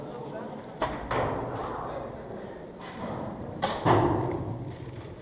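Two arrows shot from a bow strike a target, each a sharp close thwack with a short rustling tail, about three seconds apart, with people talking in the background.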